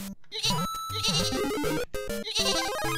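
Sheep bleating in Super Mario Maker, a string of quick cartoonish bleats in bright wavering tones, loud and close with short gaps between calls.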